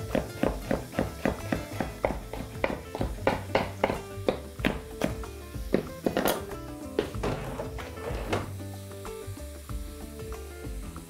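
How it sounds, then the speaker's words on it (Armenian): A hot chili pepper sliced into rings with a knife on a board: quick, evenly spaced close cutting taps that slow and grow sparser toward the end, with no one talking. "ծիծակը կտրատում ենք օղակների"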